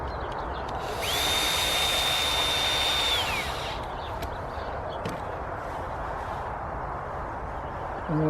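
A power drill drives screws into a wooden garden frame for crops, a close, high whine that rises, holds for about two seconds and winds down, followed by quiet outdoor background and a brief knock.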